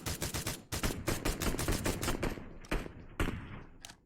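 Gunfire in the mobile shooter PUBG Mobile, a rapid dense string of loud automatic shots followed by a few scattered single cracks.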